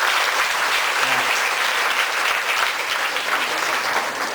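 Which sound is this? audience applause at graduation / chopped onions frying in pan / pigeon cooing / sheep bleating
audience applause at graduation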